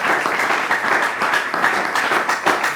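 A school competition audience at a semi-final show claps steadily, dense overlapping hand claps filling the room without pause for a few seconds.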